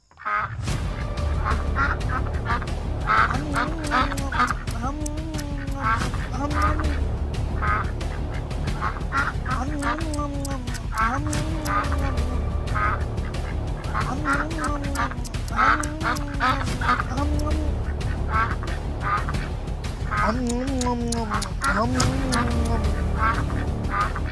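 A flock of ducks quacks and honks on a farm in a cartoon, repeated loud nasal calls in an irregular rhythm over a steady background, close and continuous throughout with no talk.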